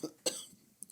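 A person nearby gives a short cough, followed by a couple of quieter breathy throat sounds.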